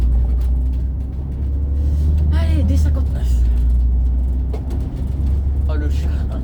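Inside an Iveco Urbanway city bus on a Tisséo route, a deep engine rumble drones steadily and loudly as the bus pulls away, with short spoken remarks and brief squeaky mechanical chirps over the low throb.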